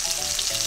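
A thin pork steak frying in a pan just after being turned, giving a bright, steady, close hiss of sizzling fat with no break.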